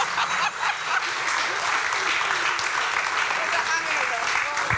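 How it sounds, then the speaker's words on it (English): A conference crowd at PG Connects Helsinki 2016 gives the Pocket Jam game jam winners loud, sustained applause, a thick wall of clapping with a few cheers and voices mixed in. "Can you give these guys a massive round of applause?"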